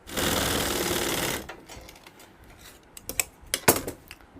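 A sewing machine stitches the seams of a Pakistani salwar in a loud, steady whir for about a second and a half, then stops, leaving faint handling clicks and taps of fabric and tools.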